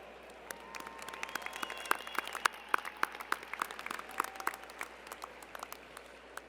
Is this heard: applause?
yes